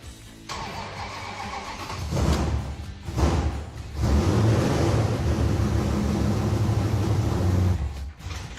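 Car engine in a crop-duster-inspired street machine build, cranking in bursts before catching and settling into a loud, steady running roar close by, on a cold day.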